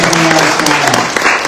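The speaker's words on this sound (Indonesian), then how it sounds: "Tepuk tangan dong buat dia" A church audience at a sermon breaks into loud, dense applause, a brief continuous burst of clapping with voices mingled in.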